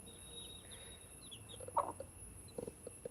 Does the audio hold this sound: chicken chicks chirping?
yes